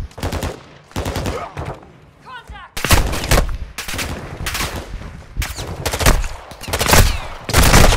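Heavy gunfire from Call of Duty: Modern Warfare II, loud broadband bursts and rapid automatic volleys repeating through the whole stretch, some close and punchy, others trailing off.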